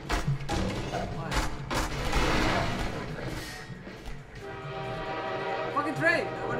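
A train horn blares in the Half-Life 2 cooperative game in City 17, sounding loud and sustained over gunfire and game noise, with a harsh tonal blast standing out in the busy mix.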